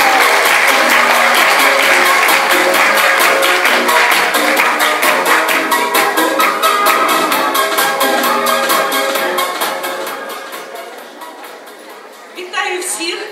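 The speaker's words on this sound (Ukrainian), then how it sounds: "Оплески." An audience at a vocational school competition bursts into loud, sustained applause with some crowd noise, tapering off toward the end before a brief final swell.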